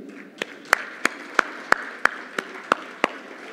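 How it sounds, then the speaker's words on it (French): A sparse, evenly spaced series of about ten sharp claps rings out in a hall at an awards gala. It sounds like only a few people clapping, with no talk over it. "je vous demande tous aujourd'hui, à ce moment, de bien vouloir l'applaudir"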